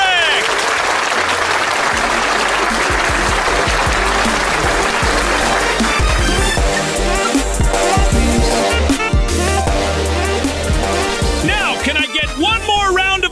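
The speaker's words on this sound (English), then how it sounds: "One more round of applause for all the panelists." A live audience at a tech showdown event applauds the panelists, loud sustained clapping and crowd noise throughout, with a host's amplified voice and music over it.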